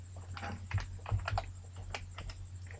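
Keys on a computer keyboard tap in quick irregular clusters while entering an Excel formula, close and moderately loud over a constant mains hum and faint high whine.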